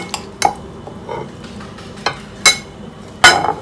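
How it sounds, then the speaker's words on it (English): Chickpea salad being spooned from a pan into a serving dish: a few scattered clinks and scrapes of a utensil against the dish, with quiet gaps between them. "Let's serve it to a serving dish."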